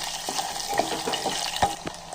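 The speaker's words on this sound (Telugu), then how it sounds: "ఇలా ఒక కుండ తీసుకొని స్టవ్ మీద పెట్టి వేడయ్యాక నూనె వేసుకొని కొన్ని పోపు దినుసులు, 2 ఎండుమిరపకాయలు, కరివేపాకు, కొన్ని వెల్లుల్లి రెబ్బల్ని చితక్కొట్టి వేసుకోవాలి." Tempering spices, two dried chillies, curry leaves and crushed garlic fry in oil in a clay pot, a close continuous sizzle with light stirring taps and scrapes, no talking.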